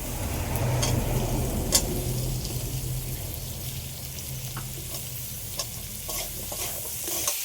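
Potatoes sizzling in hot oil in a pan as they are stirred before kulpi greens are added, a continuous close crackle broken by scattered scraping clicks of the utensil, no talking.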